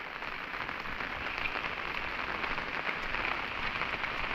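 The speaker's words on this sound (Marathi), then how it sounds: "पाऊस पण तसाच लागतोय." Rain falls steadily over the Konkan countryside during rice planting season, a dense, even hiss of drops on surfaces close by that goes on unbroken and without voices.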